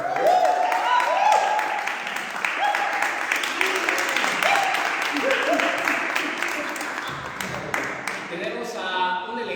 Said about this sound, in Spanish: Igual un aplauso, por favor.